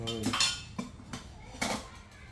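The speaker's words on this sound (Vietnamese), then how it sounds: "hai đứa con về dọn chén đũa" Bowls and chopsticks clink and knock as they are set out for a family meal at home, a few scattered crockery and utensil clatters at close range, with a voice briefly in the background.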